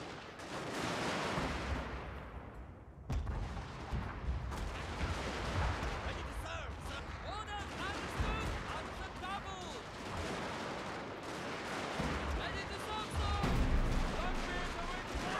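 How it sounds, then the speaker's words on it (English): Massed rifle volleys and battlefield gunfire rumble continuously in a Total War: Shogun 2 Fall of the Samurai historical battle, with dense overlapping cracks and booms and voices mixed in throughout. "Suppression fire, come on"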